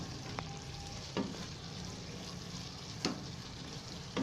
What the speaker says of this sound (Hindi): मीडियम आंच पे आप इसको फ्राई कर रहे हैं।